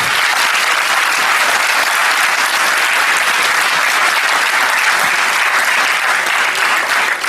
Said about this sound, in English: I'd like you all to give our excellent speaker a warm applause.